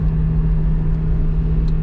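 Toyota Prius engine straining while towing another Prius, heavily overloaded, a steady low droning hum with a constant rumble from inside the car, loud and unchanging, with no talk.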